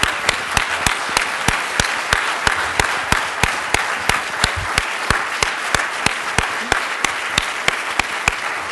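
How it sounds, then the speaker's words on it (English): Regular sharp claps at a steady pace, a few people standing and applauding close by at a scholarship luncheon, with no crowd roar. "let's all stand up and applaud these three outstanding individuals right now"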